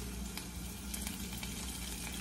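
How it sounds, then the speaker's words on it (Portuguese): Sliced onion caramelizing in olive oil, a steady dense sizzle and frying crackle close up with no talking. "E agora eu vou dar uma caramelizada nessa cebola."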